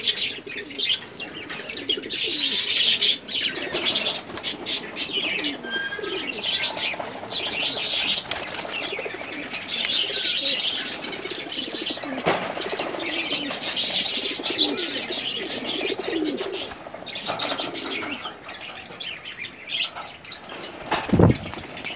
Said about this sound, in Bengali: এখানে তোমার এখানে দেখতে পাচ্ছি কিছু কালো কবুতর, এটা এগুলো হলো অ্যাকচুয়ালি ময়না জাক বলে এটাকে